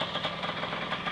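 Suzuki TC125 motorcycle engine running in a yard, a brief steady buzzing putter that is fairly close and continuous.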